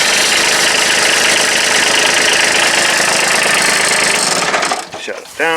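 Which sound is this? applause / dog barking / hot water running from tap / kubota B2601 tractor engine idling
kubota B2601 tractor engine idling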